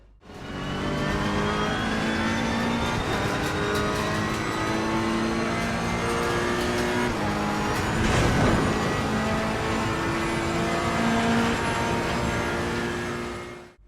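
Race car engine in Assetto Corsa Competizione at Monza, in wet conditions on dry tires, drones steadily throughout with revving pitch shifts and a brief louder burst near the middle, with no talk.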